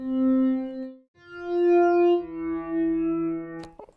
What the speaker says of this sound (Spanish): para terminar de convertirlo en el sonido de pad, vamos a cargar también un poco de reverb y un efecto que le dé movimiento